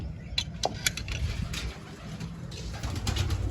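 Soft pigeon cooing murmurs low and steady, with a few sharp clicks and flutters breaking in over a constant background rumble.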